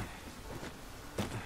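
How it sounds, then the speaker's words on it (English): Steady rain falling in the video game Dragon's Dogma 2, a continuous soft hiss with a brief louder burst near the end, heard alone without speech. "It is raining."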